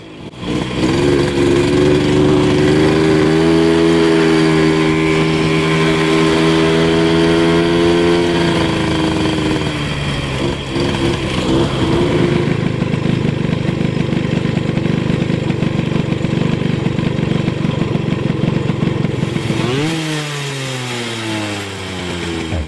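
A scooter engine with a CVT gearbox on its original rollers revs loudly and close, climbing and holding a whining tone, easing back, then rising again near the end.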